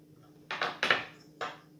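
Batter being stirred in a bowl with a little milk about to be added: a few short scraping, clattering strokes against the bowl, close and moderately loud, with quiet pauses between them.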